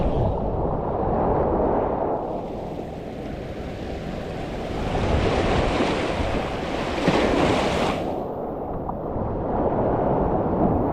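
Steady roaring surf with big waves crashing and rushing continuously, wind buffeting the microphone, no voices.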